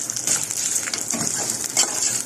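Vermicelli stirred as it fries in a pot, a steady close sizzle with scraping stir strokes running throughout, alone without voices.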